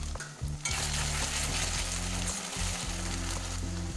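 Ground tomato and spice paste sizzles and fries in a pan, a loud, steady crackle that starts abruptly after a brief quieter moment, with occasional stirring scrapes throughout.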